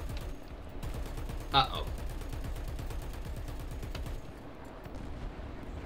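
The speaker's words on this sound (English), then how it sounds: "Screw it, we'll just use the machine guns." Rapid machine gun fire from an aircraft in War Thunder rattles in a steady stream of fast, evenly spaced bursts, fairly close, with a brief exclamation from a player partway through before the firing tapers off.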